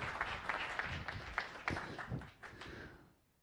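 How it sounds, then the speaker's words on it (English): A small audience at a science cafe gives a brief round of applause, scattered claps rising and fading out quickly, fairly quiet. "Let's give him a round of applause"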